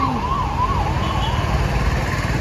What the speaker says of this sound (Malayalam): ഓ, ആംബുലൻസ്